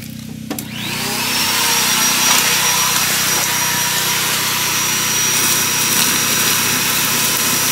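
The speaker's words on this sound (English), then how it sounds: "So let's go ahead and suck up some plastic here and get it into the machine." Machine sucking up plastic to feed a plastic-to-fuel reactor in Alabama: a loud, steady vacuum-like roar with a rising whine spins up within the first second and continues unbroken, close and alone without speech.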